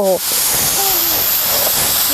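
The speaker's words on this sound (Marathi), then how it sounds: "तर आता तव्यामध्ये भाजून घेऊया भाजी" Loud, continuous sizzling hiss of wild greens roasting on a hot griddle, with a few brief vocal fragments over it.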